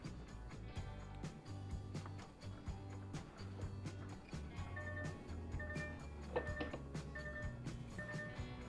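Odd electronic tones and a repeating chime from an electric truck in Euro Truck Simulator 2, with low steady hums under a bright, rhythmic beeping pattern, fairly quiet and with no talk.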